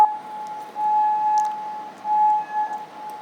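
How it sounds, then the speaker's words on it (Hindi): Sirens wail in Kuwait during an Iranian strike, a thin steady tone rising and falling in long swells, distant and moderately loud with no voices over it. "कुवैत में सायरन बज रहे हैं"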